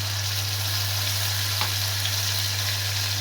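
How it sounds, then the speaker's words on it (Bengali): Ground spice paste of black mustard, green chili and cumin frying in a pan with onion, a loud, steady close sizzle and hiss throughout with no pauses. "সবগুলো বাটা মশলা এখন ভালো করে একটু ভেজে দিব"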